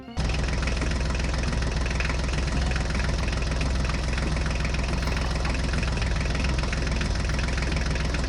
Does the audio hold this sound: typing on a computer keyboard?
no